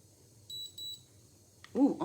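A facial spa device gives two short, faint high beeps, followed by a brief louder rustling or handling noise.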